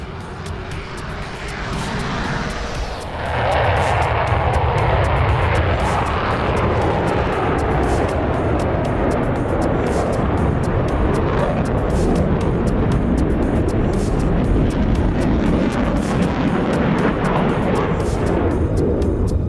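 Airliners taking off one after another in a flight simulator game during an online air traffic event, with a loud, steady jet engine roar that swells after a few seconds and holds throughout.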